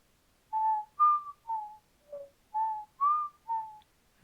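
A person whistles the Jeopardy theme, seven clear sustained tones in an even stepping rhythm, close and alone in a quiet room with no talk.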